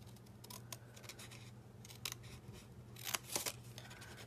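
Scissors cutting out a small paper label, a series of faint, close, crisp snips in irregular rhythm with a denser cluster of cuts toward the end, over a quiet room hum.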